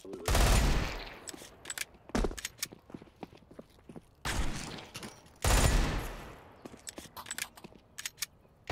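Rapid gunfire in Counter-Strike 2 during a cheating HvH match, loud bursts of automatic fire separated by short pauses, with scattered single shots and footsteps between volleys.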